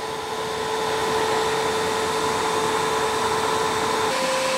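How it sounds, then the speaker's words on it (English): A Tineco iFloor 3 Breeze cordless floor cleaner runs its suction during self-cleaning, a loud steady motor whine and airy roar close up that shifts slightly in pitch near the end, with no talking. "it's going to turn that suction on and off a couple times"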